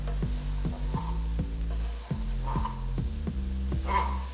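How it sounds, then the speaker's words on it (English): Chopped palak leaves stirred into potatoes in a pan for aloo palak masala: a steady sizzle of frying with a regular rhythm of scraping stirs, close and fairly loud. "Add the chopped palak leaves to the potatoes and mix everything well."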